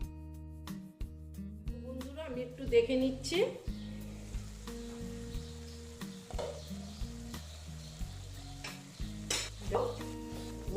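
Spice masala with long beans (borboti) is stir-fried in a pan, giving a soft sizzle beneath background music and intermittent talking.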